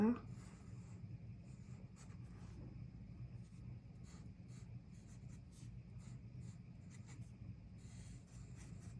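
A pencil scratches across paper in quick, faint strokes, drawing a simple child-friendly figure of a girl built from letter shapes; the soft rubbing continues in short bursts throughout.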